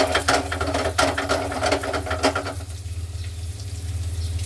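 Garlic frying in a pan for Hong Kong fried rice, a close, crackly sizzle with rapid irregular pops and rattles that ease into a steadier hiss.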